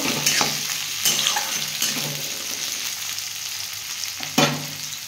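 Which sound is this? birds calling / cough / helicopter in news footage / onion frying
onion frying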